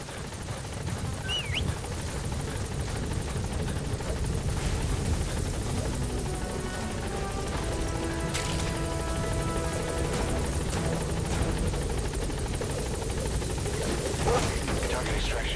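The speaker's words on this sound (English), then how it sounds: "Support helicopter has arrived." A support helicopter arrives in Metal Gear Solid V, its rotor drone loud and steady throughout as voices speak over it.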